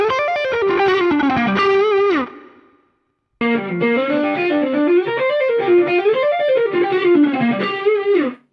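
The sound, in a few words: guitar amp tone, close miked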